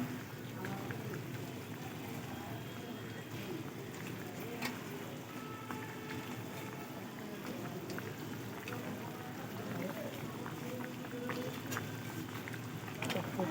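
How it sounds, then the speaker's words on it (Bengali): Curry broth simmers in a pot in a home kitchen, giving a steady dense bubbling hiss that runs throughout at moderate level. "শাশুড়ির ঝোল বসিয়ে দিয়েছি ঝোল ফুটছে"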